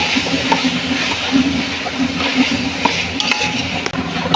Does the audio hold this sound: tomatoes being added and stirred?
yes